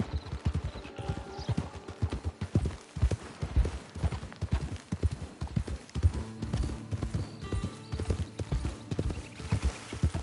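Horse hooves clip-clop steadily in the Red Dead video game as a horse travels toward a camp, a close, even rhythm of hoofbeats throughout with no talking.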